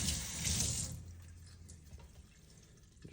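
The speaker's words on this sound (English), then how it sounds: "I take a sponge, I wet the sponge." Water runs from a tap onto a sponge being wetted before drilling during a reverse osmosis install, a short gush at first that quickly tapers into quiet trickling.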